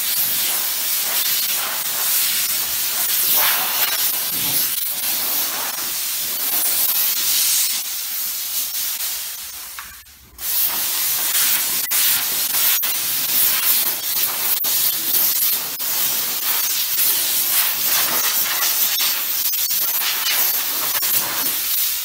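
Dry steam pass from a steam cleaner on a car, a loud, steady close hiss that runs almost without a break and dips briefly once midway.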